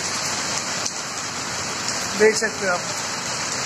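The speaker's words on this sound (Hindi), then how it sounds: "देख सकते हो गाइस कितना तेज बारिश हो रहा है" Heavy rain pours steadily outdoors in Gurgaon during the season's first downpour, a dense even roar of falling water, while someone speaks briefly over it.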